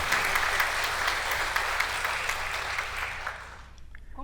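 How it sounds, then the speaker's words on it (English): Dense audience applause at a conference session fills the room, steady and loud for about four seconds before fading quickly to quiet at the end. "A round of applause to this beautiful history."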